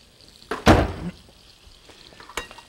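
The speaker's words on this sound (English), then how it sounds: "I got it on high, and I'm browning them as quick as I can" Onions browning in a hot pan on high heat give a soft sizzle broken by a sharp scraping stir and a few clinks of a utensil against the pan, close by and without talk.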